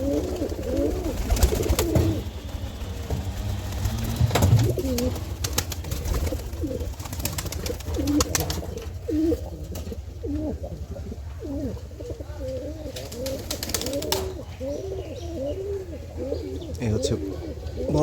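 Pigeon chicks calling with soft repeated cooing and chirps from black pigeons in a loft, fairly close and continuous under occasional talk and background noise.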